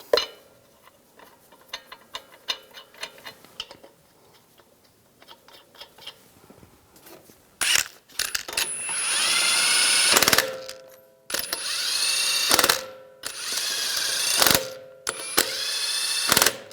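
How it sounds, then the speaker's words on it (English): Wheel lug nuts are started and run onto a 2011-2018 Ram 1500 3.6L V6 with a ratcheting tool: soft fiddly clicks at first, then several loud, sustained bursts of fast ratchet whirring, close by. "Now put the wheel on, get the lug nuts started."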